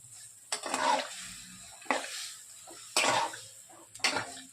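Spices and chilli powder sauté in a pan for a fish-head and bottle gourd curry, with several sharp bursts of sizzling and scraping stirs spaced about a second apart between quieter gaps.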